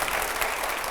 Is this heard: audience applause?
yes